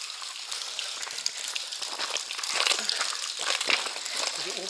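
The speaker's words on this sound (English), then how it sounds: "The rain's coming down." Heavy rain patters and splashes densely nearby inside a tunnel, a crackling wash of drops with louder bursts now and then.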